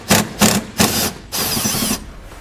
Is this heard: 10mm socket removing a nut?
yes